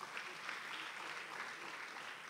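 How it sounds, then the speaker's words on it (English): A formal anniversary gathering of a public relations institute breaks into applause, a soft, steady and fairly distant wash of many hands clapping throughout. "give them a round of applause."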